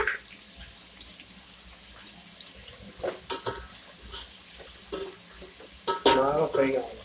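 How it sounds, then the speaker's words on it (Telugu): Curry leaves frying in oil over a high gas flame for Nellore-style fish curry, a low steady sizzle with a few scraping stirs and clatters, a brief rustle near the end, no talking. "ఒకసారి బాగా ఫ్రై అవ్వాలన్నమాట హై లో మనము గ్యాస్ సిలిండర్ పెట్టుకోవాలి హై ఫ్లేమ్"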